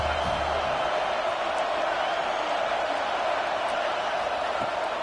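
A stadium crowd roars steadily after a big third-down play at a night playoff football game, a loud, sustained wash of cheering heard from within the stands.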